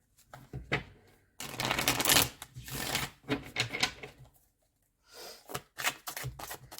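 Tarot cards are shuffled by hand in several bursts of rapid riffling and shuffling, separated by short pauses, close and fairly quiet.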